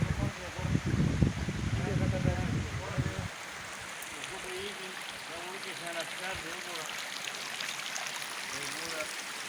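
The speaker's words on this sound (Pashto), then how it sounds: "دا اوبه وایي لګیا دي" A small stream flows steadily through a quiet valley. The water runs alone as a continuous rushing wash, with louder low rumbling noise during the first few seconds.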